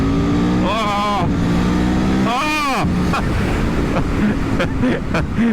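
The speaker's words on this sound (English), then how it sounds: "This is a new bike, so I can't give it the red line really." A 2021 Aprilia Tuono V4 1100 motorcycle engine on the road, a loud continuous roar with rising and falling revs as the rider accelerates, mixed with heavy wind rush and a voice speaking over it.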